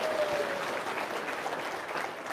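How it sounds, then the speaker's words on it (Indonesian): An audience claps steadily and densely for a couple of seconds, filling the room with continuous applause. "Tepuk tangan dong."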